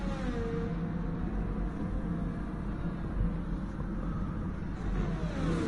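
Race cars in F1 23 roar continuously in a steady engine drone with a slight rise in revs, loud and close throughout, with no talk over it.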